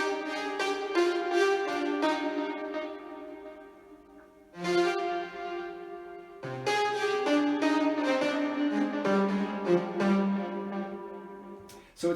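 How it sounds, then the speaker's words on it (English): A main lead synth from a dance track studio session plays a bright, harmonically rich melodic line in clear phrases with short pauses, loud and alone without talk. "So the main lead sounds like this."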